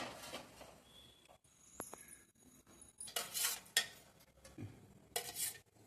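A kadai (frying pan) set on a stove for making oggarane mandakki, seasoned puffed rice: scattered metallic clinks and clatters, a couple of sharper bright bursts, close by and moderately loud, with no talking.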